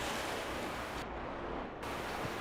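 Rushing water swells in a video game after a valve is released, a steady broadband surge like surf that briefly dulls in its upper range midway before returning at full strength.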